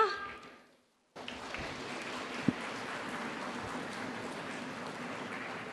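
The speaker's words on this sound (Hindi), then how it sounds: "जोरदार तालियां।" A school audience breaks into loud applause for a student speaker after a brief cut, a steady wash of clapping hands that continues evenly to the end.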